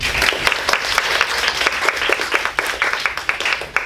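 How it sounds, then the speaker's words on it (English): A roomful of people clapping after a speech at a speaking-club evaluation session, a dense, even burst of applause that holds steady and loud throughout, close by, with no voices over it. "Let's give her a round of applause."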